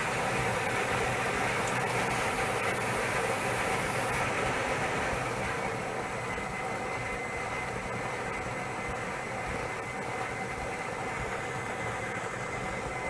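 A lottery draw machine tumbles its balls for a televised number draw, producing a continuous, loud rushing rattle that holds steady throughout.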